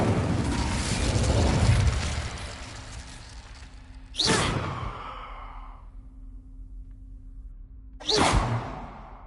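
Incendio fire spells cast in Hogwarts Legacy, heard as two sharp whooshing bursts about four seconds apart, each trailing off into a fading fiery rush, following an earlier rumbling blast.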